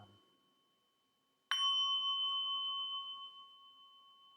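A single meditation bell struck once, its bright tone ringing out clearly and sustaining in a long, slowly fading hum with no other sounds around it.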